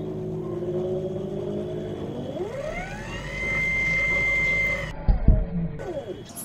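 A small homemade DC motor invention spins up, its whine rising steeply in pitch and then holding a steady high tone before a clattering knock and a falling, slowing whir as it winds down.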